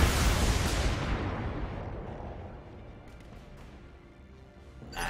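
BattleTech mechs fire their weapons in a heavy, booming salvo that hits loudly at once and rumbles away over several seconds, with a faint second burst at the very end.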